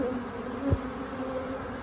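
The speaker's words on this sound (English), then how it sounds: "The bees on the ground coming up." A dense, steady buzz of many bees hums close by, continuous and droning with no voices.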